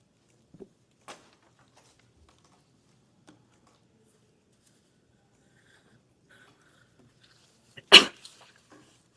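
A single sharp sneeze bursts out of a quiet room, preceded by a few faint small noises.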